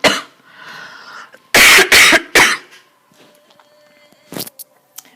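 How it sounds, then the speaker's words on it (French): A woman coughs close to the microphone, a short burst of several harsh, loud coughs followed by a few quieter throat clearings. "Pardon, je vais tousser,"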